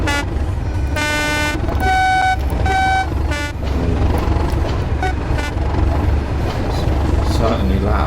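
A Class 37 diesel locomotive in Train Sim World gets throttle on the Tees Valley Line, its deep engine rumble running loud and constant under several sharp horn-like toots early on.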